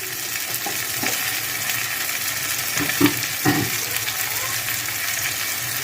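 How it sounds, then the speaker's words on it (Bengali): Green papaya pieces fry in a pan for a vegetarian curry, sizzling steadily up close, with a few soft stirring scrapes and bumps of a utensil against the pan. "দেখো ভালো করে ভাজা হয়ে গেছে"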